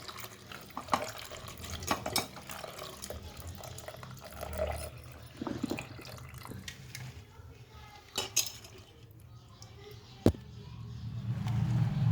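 Turkey berries are washed by hand in a bowl of water, with continuous swishing, splashing and clinking of the vessel at close range, ending in a louder rush of water.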